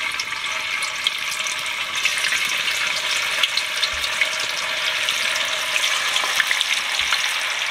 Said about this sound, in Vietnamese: Tàu hũ này mình để cho mình chiên.